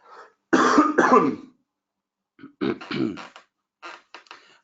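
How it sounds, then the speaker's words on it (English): Several harsh coughs in clusters: two strong coughs, a pause, then a couple more, followed by quieter throat-clearing bursts, close to the microphone. "Excuse me, I'm just going to cough."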